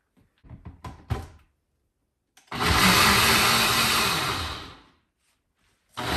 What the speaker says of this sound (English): Okay, I'm gonna blend up the coconut.